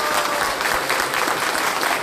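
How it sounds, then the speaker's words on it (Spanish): Students and teachers at an academic school event clap together in a loud, steady burst of applause that fills the room for a couple of seconds. "ahora les voy a pedir que se den un gran aplauso a ustedes como estudiantes, como maestros,"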